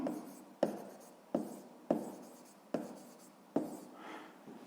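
Pen strokes writing out a sixth-grade math solution: about six quick scratchy bursts, each starting sharply and fading, in a steady rhythm, close and fairly quiet with no voices.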